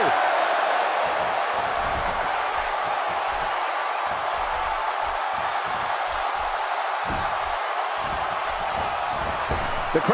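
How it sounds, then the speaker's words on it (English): Wrestling arena crowd in the video game WWE 2K17, a steady loud roar of cheering filling the whole stretch, with a commentator talking underneath. "crowd here in Austin, Texas, really into this one"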